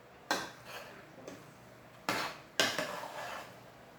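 A spoon turns Edikang Ikong vegetable soup in a cooking pot, giving a few sharp metallic clanks against the pot with scraping in between, close and fairly quiet.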